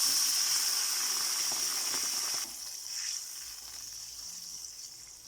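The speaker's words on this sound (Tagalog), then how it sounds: "Lagyan po natin ng konting tubig." Onion, garlic and ginger sizzle in a hot pan as a little water is poured in, a steady bright frying hiss that drops abruptly in loudness midway, then continues more softly.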